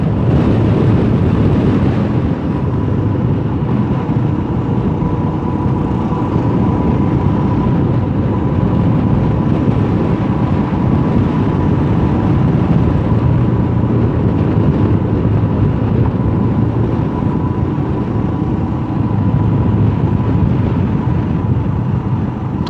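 A Royal Enfield Himalayan motorcycle cruises steadily in fifth gear, its engine giving a continuous, even drone mixed with heavy wind rush and road noise at a constant loud level throughout.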